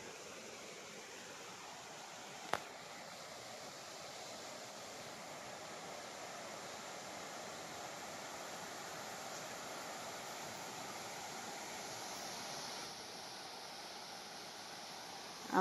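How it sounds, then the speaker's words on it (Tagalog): A river flows beside farmland on a lanzones farm lot, giving a continuous broadband rush of water that stays even and unbroken throughout, with one brief sharp knock partway through. "ayan na po yung ilog"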